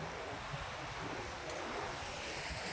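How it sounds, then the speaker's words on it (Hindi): Fast rushing lake water near Kedarnath, a continuous broad roaring wash of water that stays loud and even throughout, with no voices over it. "झील का पानी इतना तेज़ है"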